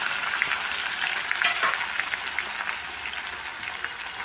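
Mustard seeds spluttering in hot oil, then thick-cut onion frying, a dense continuous sizzle with scattered pops and crackles, close and fairly loud, no voices.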